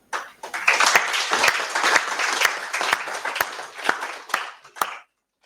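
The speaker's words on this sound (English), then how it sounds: "Another round of applause for Angelo." An audience at a health partnership event breaks into applause, a burst of many hands clapping that swells, holds, then thins to a few scattered claps before stopping.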